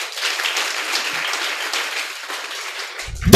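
Applause rises from a worship gathering honouring the king of kings, a dense sustained patter of many hands clapping that continues steadily throughout before a brief low thump at the end.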